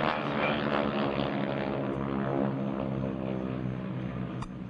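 GEICO Skytypers propeller airplanes fly at an air show, producing a loud continuous drone with layered engine harmonics that shift slightly in pitch as the planes pass.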